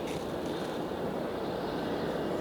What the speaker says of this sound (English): Engine start making all those noises down there